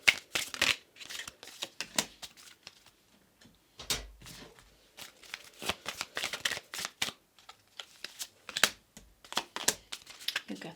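Tarot cards being shuffled and handled, a quiet run of crisp riffling and flicking bursts in irregular clusters, close and soft, with no talking.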